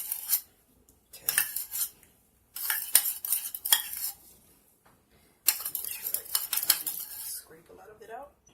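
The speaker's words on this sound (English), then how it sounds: "Scrape a lot of it out" Utensil scraping cold, hardened coconut oil out of a container for hot-process coconut soap, sharp scratchy bursts in three separate runs with pauses between, close and fairly loud, no talking.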